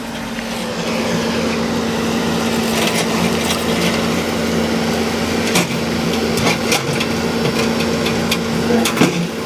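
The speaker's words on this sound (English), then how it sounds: "It's just a big hammer, just goes up and down, busting the concrete up." A loud hydraulic hammer engine drones steadily with a low hum, its sharp knocks and impacts breaking concrete near the end.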